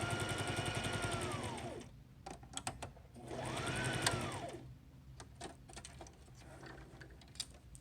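A sewing machine stitching a zipper pouch runs in two loud bursts of rapid stitching, each rising and then slowing to a stop, with sparse ticking and clicking in the quieter gaps, close by and without talk.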